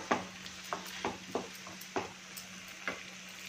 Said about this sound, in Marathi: कांदा टोमॅटो आपल्या छान असा शिजू द्यायचा आहे.